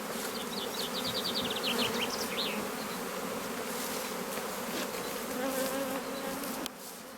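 A large honeybee colony buzzes in a dense, steady drone as the bees are shaken from their frames during a transfer, with a few brief higher whines from individual bees near the start.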